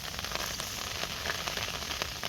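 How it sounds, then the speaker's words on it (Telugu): Heavy rain falls in a village, making a dense, even hiss with faint patter throughout and no voices. "ఇక మళ్ళీ కప్పాల కప్పినా తడిసిపోద్ది ఎందుకంటే విపరీతమైన వర్షం వస్తుంది"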